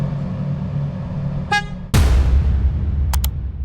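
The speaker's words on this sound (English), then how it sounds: "and then listen to this horn." A Cupra Formentor's horn gives a short toot, then a louder sustained blast and two quick beeps, over a low idling engine.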